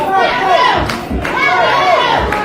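Wrestling crowd at an independent show cheering and chanting in loud rising swells, with rhythmic shouted chants, occasional thuds and a commentator's voice running over it.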